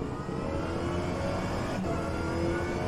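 Race car pulling away in rFactor 2 on a rainy track, a steady engine drone with a rising whine, fairly loud and continuous, with no talk.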